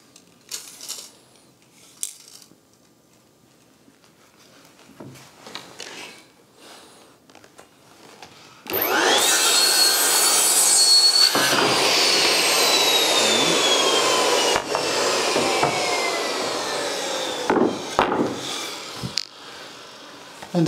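A power saw makes a straight cut through a wooden plank for a tower roof, a loud sustained whine that starts abruptly partway in and runs for about ten seconds, preceded by quieter clatter and followed by brief knocks.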